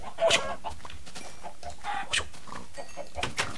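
Short chicken clucks from Minecraft, several brief bursts spaced across a few seconds, moderately loud over a faint game background.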